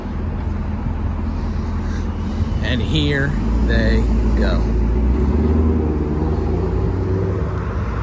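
A 2024 Camaro ZL1 Collector Edition with a standard performance exhaust pulls away and accelerates, its engine and exhaust a steady loud rumble that rises through the clip while people talk and cheer over it.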